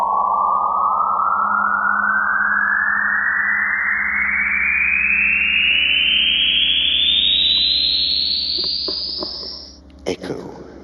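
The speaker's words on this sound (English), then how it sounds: "In a very technical process of recording a sound that is played from a speaker through a microphone, I was able to capture the essence of the Dome." A single rising electronic sweep tone plays from a speaker inside the Dome, loud and continuous for about ten seconds, ending in an abrupt cutoff and a short echoing tail.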